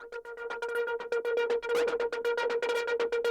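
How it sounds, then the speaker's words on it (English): An effects-laden guitar swell pulses in a fast, stuttering tremolo, the tone chopping rhythmically as it rises and sustains. "I've added this guitar swell, which sounds really funky with these effects on it."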